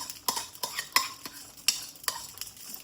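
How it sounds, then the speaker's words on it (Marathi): Rice grains being stirred and roasted in a hot kadhai, a quiet series of sharp scraping and tapping strokes at an irregular rhythm over a faint sizzle, with no voices. "आपली इथे कढई छान तापलेली आहे आता त्याच्यामध्ये मी हे तांदूळ घालून घेते सगळे तांदूळ घालून घेते"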